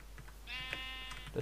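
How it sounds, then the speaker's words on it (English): A single wavering sheep bleat in a video game, moderately close, over faint background ambience. "That's another sheep."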